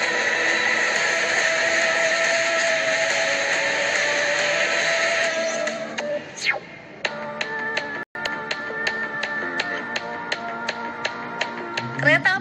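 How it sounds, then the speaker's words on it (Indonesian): A long cargo train passes at a steady rumble under a sustained horn-like tone, then regular rhythmic clicks of wagon wheels over rail joints repeat for several seconds, close and fairly loud. "Kereta api kargo berikut ini berapa gerbong ya?"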